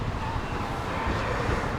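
Steady rushing wind buffets the microphone on a beach between Morjim and Ashwem in North Goa, India, with a faint wash of surf beneath it, continuous and close throughout.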